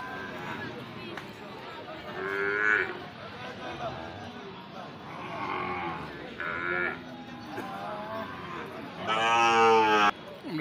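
Pakra Sahiwal cattle at a Bangladeshi livestock market, with several drawn-out moos and bleating calls, the loudest near the end, over a busy crowd murmur.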